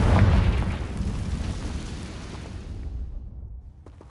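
Deep booming explosion from a Confringo blasting spell, a loud low blast at the start rolling off into a long rumbling decay that fades over several seconds.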